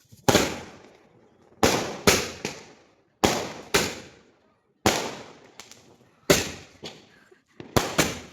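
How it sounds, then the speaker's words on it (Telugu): Diwali firecrackers burst one after another at a family celebration, about a dozen sharp, loud bangs, some in quick pairs, each trailing off into a short fading rumble, with silence between bursts. "బాంబులు ఎట్లా వెళ్తున్నాయి? గట్టిగానా?"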